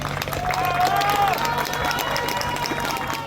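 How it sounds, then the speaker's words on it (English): Onlookers in La Guaira, Venezuela applaud as an earthquake survivor is carried out to ambulances, a steady spatter of clapping and crowd noise with a shout or whistle early on. "She was carried out to waiting ambulances as onlookers applauded"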